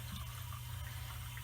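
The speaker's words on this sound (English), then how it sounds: "fill up your cup of water, your pint" Water running from a tap into a mug, a steady rushing stream with a low rumbling fill, heard alone and continuous.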